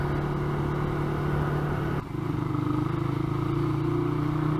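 A 2005 Honda CBR 125R motorcycle engine hums steadily at close range while riding, then a brief dip as it shifts and revs back up into a throbbing drone.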